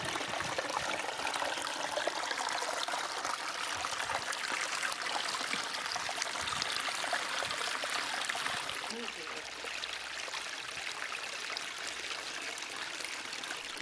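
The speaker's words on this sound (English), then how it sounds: "I really like how the waterfall spillway came out." Water pouring over the spillway of a garden stream waterfall, a continuous bright splashing rush that stays close and steady, dipping slightly in level partway through.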